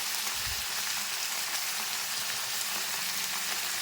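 Mixed vegetables, pumpkin and Malabar spinach, fry in a pan with a dense, steady sizzle like light rain, close and constant, with a low thump near the start.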